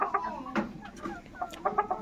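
A rooster of about 3.5 kg on a chicken farm raising local Tiger and layer chickens clucks in short, irregular bursts, close and clear, with other fowl faintly around.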